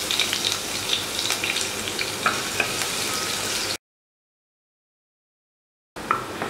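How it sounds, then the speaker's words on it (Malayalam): Garlic and ginger sizzle steadily in hot oil in a pan, a continuous crackling fry with small pops, cut off by a stretch of silence before the sizzling resumes. "വെളുത്തുള്ളിയും ഇഞ്ചിയും ഒന്ന് ചെറുതായിട്ട് മൂത്തിട്ടുണ്ട്."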